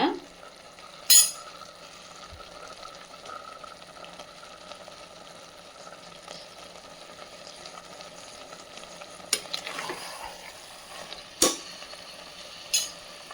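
Chicken tossed with masala in a pan for biryani fries with a low, steady sizzle, broken by a few sharp clicks and scrapes of the stirring spoon against the vessel.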